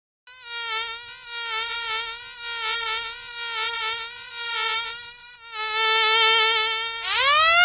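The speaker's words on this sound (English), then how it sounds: "Bees." A steady, synthetic-sounding insect buzz drones continuously, pulsing gently in loudness and rising in pitch at the end.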